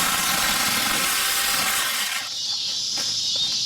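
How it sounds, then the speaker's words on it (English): Tingmengte 6 inch chainsaw cutting branches in a yard: a loud, steady high-pitched motor whine that shifts in tone midway as the cut ends and the saw revs on alone. "It's a pretty useful little chainsaw, especially for chopping branches and that kind of thing."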